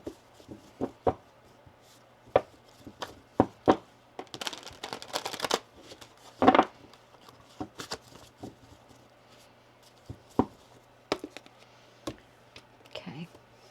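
A deck of tarot cards is shuffled in short bursts of riffling and soft taps, near and quiet, with pauses between.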